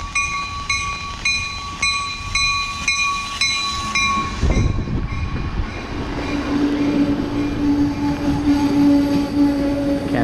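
An Amtrak passenger train passes close by at Old Orchard Beach station, Maine, its cafe and coach cars rolling past with rhythmic clacks and a steady high whine, then a deeper grinding roar as more cars follow.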